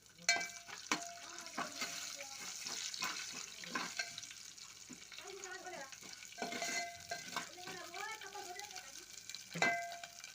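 Ginger garlic paste frying and being stirred in a hot pan, with a steady sizzle broken by repeated scraping strokes of a spoon and brief bursts of spattering, close and moderately loud throughout.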